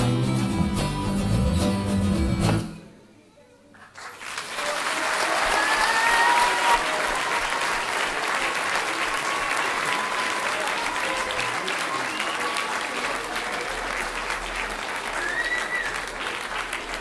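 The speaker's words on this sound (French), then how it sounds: "on peut les applaudir bien fort, vraiment" An audience claps loudly for a school class performance, starting right after a short pause that follows children's singing. The steady applause fills the rest of the clip, dense and sustained, with a few faint voices under it.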